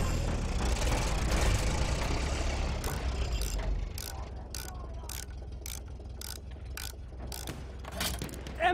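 Tank engine in Battlefield 1, a World War I shooter, rumbling low and loud at first, then idling under a rhythmic clanking of treads and gears alongside distant battle noise.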